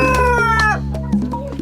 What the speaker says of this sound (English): up, George's chickens